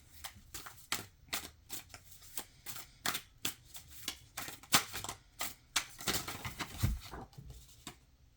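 Tarot cards are shuffled in quick, crisp bursts of riffling and slapping close by, repeating for several seconds at a soft level with no talk.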